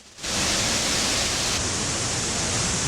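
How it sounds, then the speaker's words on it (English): Tarawera Falls pours from a rhyolite cliff in a steady, dense roar of rushing water that starts abruptly and stays loud and close throughout. "But the sound of these falls is the real artwork."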